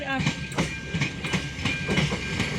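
An express train rushes past close by, a loud steady roar with rhythmic clickety-clack of wheels over rail joints and a faint high whistle tone throughout.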